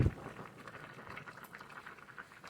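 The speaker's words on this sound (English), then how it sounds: "my noodles is still boiling" A pot of noodles boils on a stove, a soft continuous bubbling and simmering hiss at close range with no voices.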